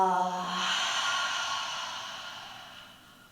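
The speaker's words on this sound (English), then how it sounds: "Take a big inhale." A single deep breath drawn in and slowly released during a calm morning yoga session, a close, soft airy exhale fading gradually, with no talking.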